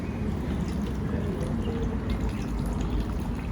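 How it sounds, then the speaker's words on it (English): Cold water pours steadily into a container to rinse fishing-bait maggots. The flow makes a constant, fairly loud splashing and trickling wash that runs the whole time with no pauses. "Okay, add more cold water."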